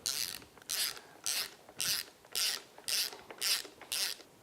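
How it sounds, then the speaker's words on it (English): A ratchet wrench tightens a new spark plug into an engine, giving eight evenly spaced bursts of sharp, close metallic clicking, each about a quarter second long, with no voices. "Now let's install our new spark plug."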